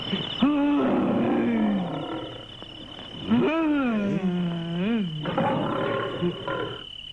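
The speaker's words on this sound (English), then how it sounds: "these soldiers hear a lion in the distance" Several long, wavering lion roars come from a cartoon soundtrack, each one rising and falling in pitch over a constant high insect-like hum, with faint background noise around them.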